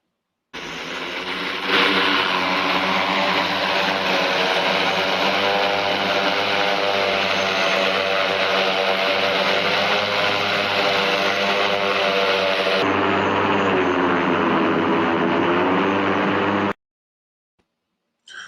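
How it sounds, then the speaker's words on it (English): A flying drone taxi's propellers in flight give a loud, steady droning hum with a layered tonal whine. It holds nearly constant for about fifteen seconds, shifts slightly partway through, then cuts off abruptly. "Imagine that, a flying drone taxi."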